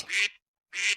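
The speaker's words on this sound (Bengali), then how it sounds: "হাঁসটাকে প্যাক প্যাক" A duck gives two short, bright quacks separated by a brief pause, heard alone and close.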